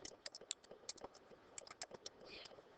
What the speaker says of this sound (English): I'm going to type in payment.